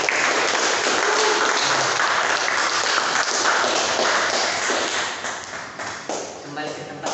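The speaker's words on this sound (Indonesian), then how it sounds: "Beri tepuk tangan untuk kelompok 1." Classroom students applaud a presenting group in a broad, loud wash of clapping that thins and becomes patchier toward the end, with scattered taps and thumps.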